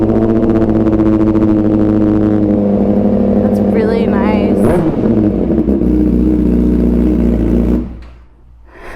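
Honda CBR1000RR Fireblade fitted with an SC Project exhaust revving loudly up close, a sustained heavy engine roar with a brief throttle blip midway before cutting off near the end; people talk briefly over it.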